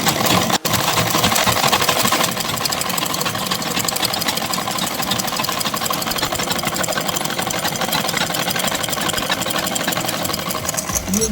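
A sewing machine runs continuously, fast and steady, with dense mechanical rattle as it double-stitches a seam on a kurta, close and loud throughout.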